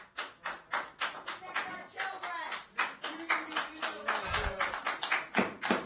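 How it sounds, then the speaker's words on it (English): An audience at a school board meeting claps in a room, a moderately loud run of uneven, overlapping claps with a brief spoken voice partway through. "Please refrain from clapping."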